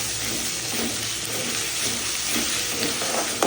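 Ginger garlic paste sautés with onions in a pan for mutton gravy, giving a soft, steady sizzle and hiss with faint stirring scrapes, continuous and moderately quiet, with no talk.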